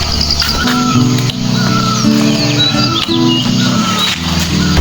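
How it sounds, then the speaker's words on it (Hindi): Birds chirp and call in the morning around a village in the hills, with short scattered tweets over a steady low hum and clatter of nearby activity. "सुबह सुबह चिड़ियों ने चहचहाना शुरू कर दिया है।"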